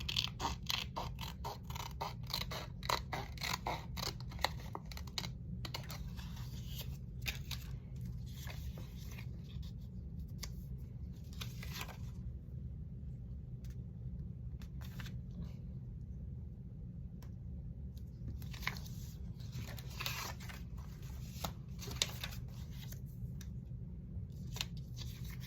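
Scissors cutting paper for craft embellishments, a long run of close, crisp snips and creaks with brief pauses between cuts.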